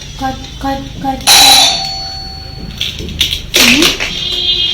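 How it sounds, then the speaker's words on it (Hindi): A two-tone doorbell chime rings clearly, then rings again, with a voice speaking over the background. "डोरबेल बजी, कोई आया है?"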